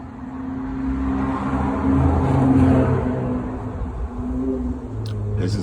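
Cars drive past and rev their engines, a steady low engine drone swelling and easing as vehicles pass, at moderate distance.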